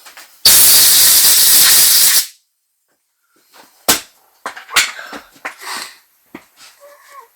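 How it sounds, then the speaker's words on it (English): Brake cleaner sprays in a loud, steady hiss for about two seconds to clean oil from a Husqvarna Automower wheel motor, then quieter bursts of blowing air and handling noises follow. "I tried to clean it out with a brake cleaner, and I blow it out"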